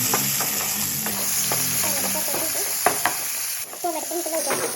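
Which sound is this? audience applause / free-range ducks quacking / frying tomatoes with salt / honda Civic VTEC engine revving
frying tomatoes with salt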